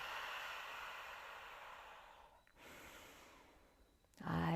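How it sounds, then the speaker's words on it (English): Slow, deep breathing during a seated yoga practice: a long airy exhale fades out, a brief pause follows, then another drawn-out breath, all close and soft before a voice begins at the end. "Slowing down the breath."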